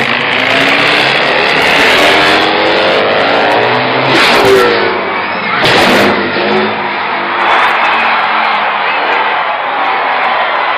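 A motorcycle engine roars and revs continuously, loud and close, on a jump ramp before a stunt jump over 14 Greyhound buses, with a few sharp bursts rising over the steady drone and a crowd faintly behind.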